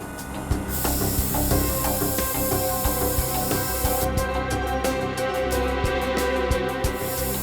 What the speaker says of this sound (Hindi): अभिजीत, अगर खून यहाँ पर कहीं है तो ये स्प्रे हमें बता देगा।